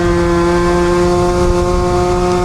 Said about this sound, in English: Yeah, that is revving so hard.